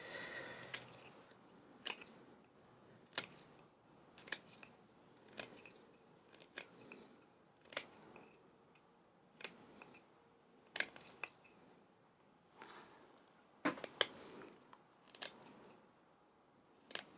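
A hand tool makes small push cuts on a wooden tripod handle, giving a series of about fifteen crisp, close-up cutting snicks at irregular intervals against a quiet background.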